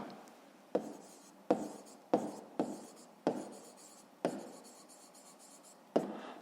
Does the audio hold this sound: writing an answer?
yes